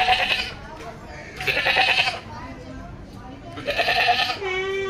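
Boer female goat on a farm bleating loudly three times, each a long, nasal, quavering call close to the microphone, with quieter pauses between.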